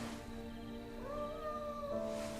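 A house cat, named Monster, meows in one drawn-out, wavering call that rises and falls over about two seconds, close and fairly quiet against a soft room background.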